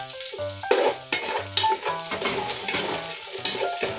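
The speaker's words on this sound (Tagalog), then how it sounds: "Igisa-gisa lang po yan" Garlic and ginger sauté in a hot pan for chicken tinola, a bright steady sizzle with scraping stirs and occasional utensil clinks, close and moderate in level.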